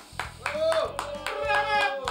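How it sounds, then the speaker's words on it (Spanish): A few people clapping on a Mexican cooking show set, a sparse, close patter of hand claps over a couple of seconds, with a voice speaking over it. "un aplauso por favor para Cinderental y este departamento"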